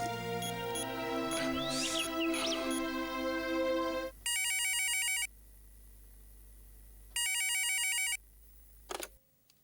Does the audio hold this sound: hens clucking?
no